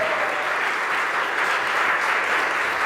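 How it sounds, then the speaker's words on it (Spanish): A church congregation applauds loudly for the Lord during a worship service, a dense, steady wash of clapping that holds evenly for a few seconds with no talking over it. "Dele un aplauso fuerte al Señor."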